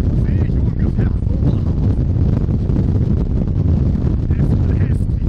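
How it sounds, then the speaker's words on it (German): Strong storm wind buffets the deck of a Finnlines ferry on the Baltic Sea, a loud, steady roar with constant low rumble and gusting noise across the microphone, unbroken throughout. "Es bläst wie die Hölle."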